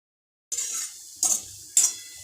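Ground garlic spice paste frying in a pan for garlic shev, with three short bursts of sizzling and stirring at a steady pace, close and fairly quiet.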